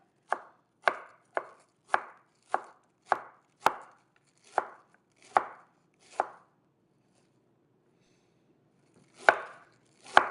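A knife mincing stacked vegetables for okonomiyaki on a cutting board: about ten crisp, evenly spaced chops, a brief pause, then two more, close and clear with no talking.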